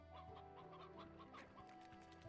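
Chickens in the video game Slime Rancher cluck in a busy, continuous chatter over a steady hum, with short sharp clucks scattered throughout.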